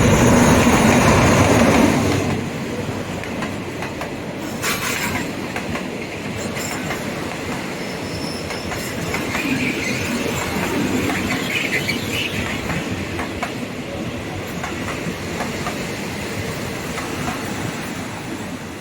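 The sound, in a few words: train passing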